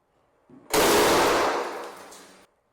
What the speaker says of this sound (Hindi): तो गैस का दहन होने पर हमें यहाँ विस्फोट देखने को मिलता है।